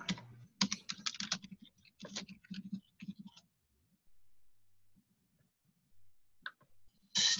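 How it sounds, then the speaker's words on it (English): A computer keyboard is typed on in quick, uneven bursts of clicking keystrokes for about three seconds, then falls quiet before a few isolated clicks and a final short clatter. "We don't know what you're typing or what."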